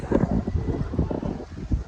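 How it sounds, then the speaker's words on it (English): Steady wind buffets the microphone in low, gusty rumbles throughout, with no other distinct sounds. "it looks like it's just windy enough"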